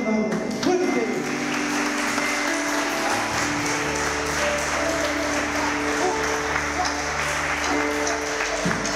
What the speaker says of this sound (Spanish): Y te damos un aplauso enorme, enorme, enorme